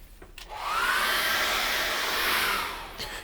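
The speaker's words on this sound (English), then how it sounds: "Let's get the hairdryer on that." A hair dryer switches on and blows with a steady, loud whooshing whine while drying an acrylic painting, then cuts off after a few seconds.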